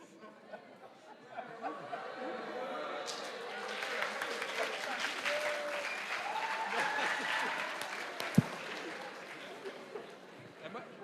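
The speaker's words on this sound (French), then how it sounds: "essayez de m'applaudir aussi un peu après" An audience applauds at a French economics round-table event, a steady wash of clapping that swells and fades over several seconds, with murmured chatter and a little laughter mixed in.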